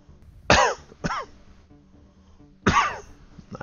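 A man coughs and clears his throat close to a microphone, three or so harsh raspy bursts with quiet pauses between them, during a gaming stream.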